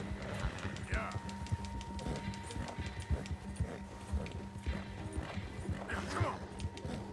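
A horse gallops in the video game Red Dead Redemption II, its hooves thudding in a fast, uneven rhythm over a continuous background with a steady tone; the sound stays quiet and unbroken throughout.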